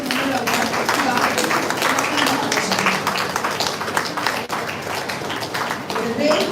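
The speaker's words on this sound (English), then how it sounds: "let's appreciate with a warm round of applause." An audience at a memorial award ceremony claps in a dense, steady patter of applause, with talking voices blending in under the clapping.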